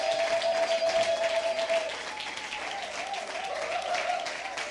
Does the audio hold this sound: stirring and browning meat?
no